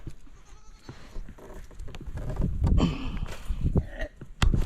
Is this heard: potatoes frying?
no